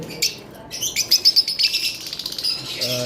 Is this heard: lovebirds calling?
yes